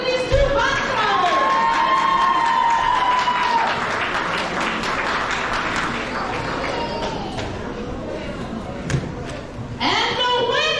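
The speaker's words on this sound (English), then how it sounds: "give us a round of applause for these two boxers" A crowd at an amateur boxing event applauds and cheers for two boxers, with whistles and shouts over dense clapping and people talking throughout.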